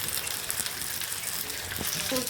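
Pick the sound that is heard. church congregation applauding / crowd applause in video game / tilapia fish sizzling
tilapia fish sizzling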